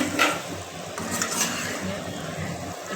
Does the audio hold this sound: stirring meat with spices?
yes